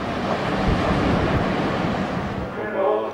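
Rough sea waves and strong wind around a supply ship in stormy conditions, a loud, constant roar of surf and gusts buffeting the microphone.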